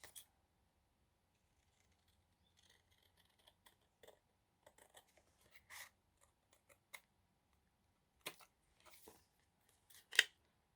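Scissors snip paper scraps for a handmade card in short, quiet, scattered cuts with pauses between them and a sharper snip near the end. The sound is close and there is no speech.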